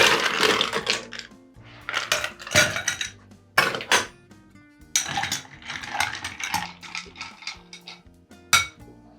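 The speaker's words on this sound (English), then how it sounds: "we're just going to go ahead and add ice to it, go ahead and chill it and dilute it as well" Ice goes into a Sazerac cocktail to chill it, sounding as a series of close, sharp clinks, clatters and rattling knocks of cubes against glass or metal, arriving in irregular clusters with brief pauses between them.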